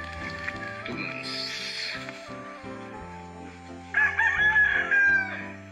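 A rooster crows among many chickens in the rural provincial countryside, giving two loud, drawn-out calls over steady background music.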